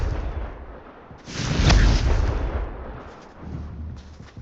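Confringo fire spell from the game Hogwarts Legacy bursting in a loud, deep explosive boom that swells and rumbles for a couple of seconds before fading into low crackling.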